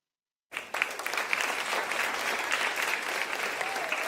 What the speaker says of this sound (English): These rounds of applause is a way of appreciating the visit